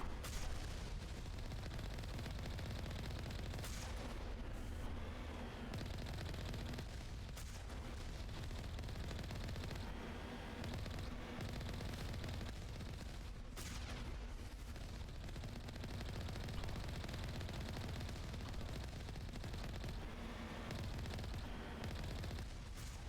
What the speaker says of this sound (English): something is shooting at me, but I haven't acquired any targets yet